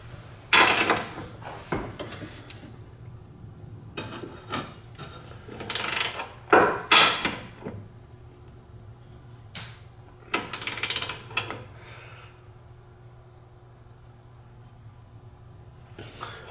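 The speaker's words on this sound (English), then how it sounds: "I'm gonna go ahead and torque it" A torque wrench tightens a bolt on a BMW E36 steering angle kit, with scattered close metallic ratcheting bursts and clanks separated by quiet pauses over a low steady hum.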